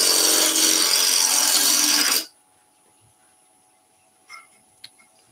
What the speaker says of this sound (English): We're going to make a little tenon here as well.